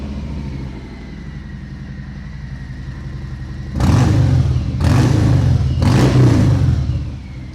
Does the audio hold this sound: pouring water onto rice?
no